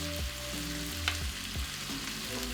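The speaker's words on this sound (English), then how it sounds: "Once the meat is cooked through, push it to one side and add in all the vegetables except for the cabbage." Cooked meat and vegetables stir-fry in a hot pan, a loud, steady sizzle with brief stirring scrapes and a faint tonal background.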